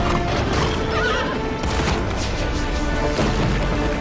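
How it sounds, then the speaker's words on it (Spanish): A horse whinnies loudly in a long, shrill call over a dense, noisy background of clattering hooves and crashing sounds, with no speech. "Ese es mi caballo, señor."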